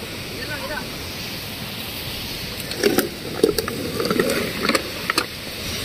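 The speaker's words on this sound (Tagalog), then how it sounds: "Ang laki ng alon, no?" Big ocean waves roll at sea near a small boat, a steady broad wash of water noise with voices talking over it in the second half.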